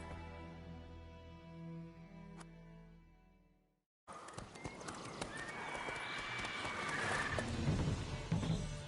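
Roach, Geralt's horse in the video game Witcher 3, trots with a fast, steady clip-clop of hooves, close and clear, after a break in the sound, with a brief voice at times.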